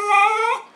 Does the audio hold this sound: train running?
no